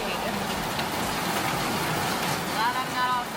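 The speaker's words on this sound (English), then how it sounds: "Listen to this rain" Heavy rain pours outside a hotel room window in Jilin, China: a dense, constant wash of close patter and splashing that holds steady from start to finish, with a faint tonal whine near the end.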